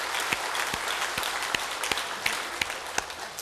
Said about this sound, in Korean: 우리 하나님께 감사와 영광의 박수를 올려드립니다